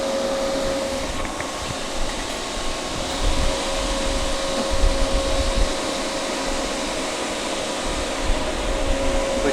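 A refrigerant reclaimer runs during a Whirlpool refrigerator repair, giving off a steady, loud mechanical whir with a faint tonal hum. The sound stays nearly constant throughout and has no speech over it.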